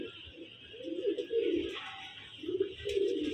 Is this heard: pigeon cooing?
yes